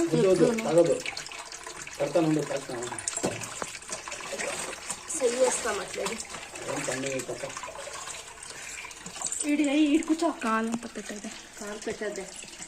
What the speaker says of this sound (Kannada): ಅಲ್ಲಿಂದ ನೀರಿದೆಯಲ್ಲ ಆ ನೀರು ಈ ಕಲ್ಯಾಣಿಗೆ ಬಂದು ಸೇರುತ್ತಿಲ್ಲಿ